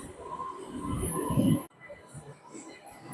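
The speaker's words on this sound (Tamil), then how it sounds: "இந்த நமக்கான ட்ரெயின் வந்துருச்சு." A metro train in Kuala Lumpur, Malaysia rumbles and hums into a station, rising in loudness, then cuts to a quieter ambience; faint voices nearby.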